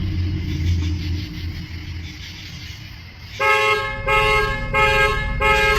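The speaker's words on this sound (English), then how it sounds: "the fucking car is going off, bro." A parked car's alarm starts blaring partway through, a loud repeating electronic tone pulsing in even bursts over a low traffic rumble, close by and continuing to the end.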